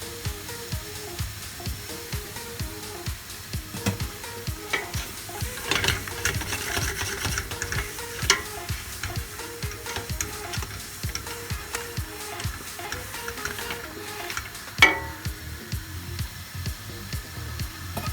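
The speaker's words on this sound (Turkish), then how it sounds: "Mantarımız kaynıyor." Mushrooms boiling in a pot of mushroom soup, a faint steady bubbling simmer with a few soft clinks, quiet and continuous with no talk.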